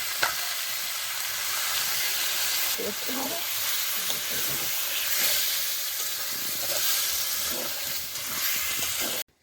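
Water that rinsed salt and spices poured onto chicken sizzling in a pan, cooked with tender coconut water, raising a loud, continuous hiss of steam and frying with occasional stirring scrapes, until the sound cuts off at the end.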